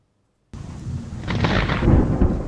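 Thunder from a lightning storm over a garden community in Nizhny Novgorod district breaks suddenly after a moment of silence, then rolls into a deep, swelling rumble that stays loud and close.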